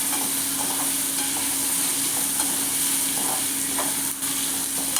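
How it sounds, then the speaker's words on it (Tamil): A dried-fish thokku with green chillies and sambar powder fries in a pan, giving a dense, constant sizzle close up. Faint stirring scrapes sound under the crackle, and no one speaks. "சாம்பார் பொடி போட்டு வறுத்து பாருங்கள், சூப்பராக இருக்கும்."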